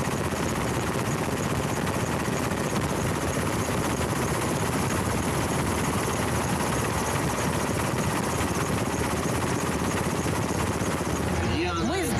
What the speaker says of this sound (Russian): А пока грузимся в Ми-8 и еще 3 часа летим до мыса.